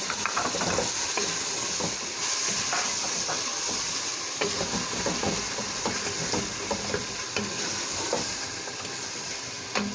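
Spice masala fries in a pan for a lobia keema dish, giving a loud, constant hiss and sizzle with irregular stirring scrapes and light knocks of the spoon, heard up close with no talking.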